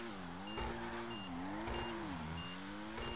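Car engine in Grand Theft Auto V humming steadily while driving, its pitch rising and falling gently through gear and speed changes, continuous and moderately loud with no talk over it.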